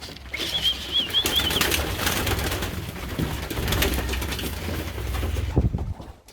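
Homing pigeons close by, with soft cooing and bursts of wing flapping and fluttering over a low rumbling background, and a brief thin whistle-like call near the start.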